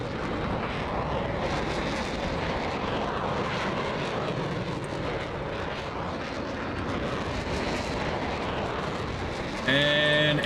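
An F-104C jet aircraft roars past at airshow distance, a loud sustained broadband engine noise that swells and holds steady for several seconds.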